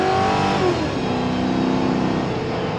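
A Ford Crown Victoria Police Interceptor accelerates, its V8-style engine note climbing steadily in pitch, loud and close, holding a smooth rising drone for about three seconds with no talk.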